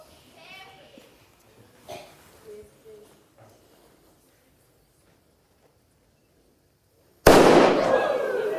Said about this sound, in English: When the fuse burns down and the cannon fires